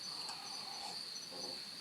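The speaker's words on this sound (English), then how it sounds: "I don't know if you can hear the crickets, but that was perfectly timed crickets." Steady, high-pitched cricket chirping fills the background, a continuous shrill trill at moderate distance with no voices.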